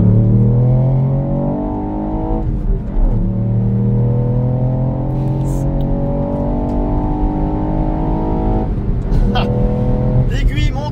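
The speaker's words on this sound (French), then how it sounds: "le son du petit 3 cylindres, il est vraiment sympa" Ford Puma ST small three-cylinder engine pulling steadily under load from inside the cabin, a loud continuous drone that rises gradually in pitch, dips, then climbs again, with talk over it.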